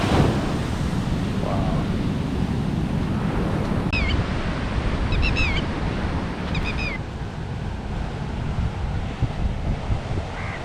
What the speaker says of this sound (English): Check out these waves.